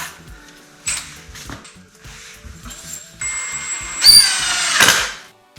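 A power drill drives screws into a catch on a backyard access gate, with short bursts of whirring and several bursts of louder, high-pitched driving close by.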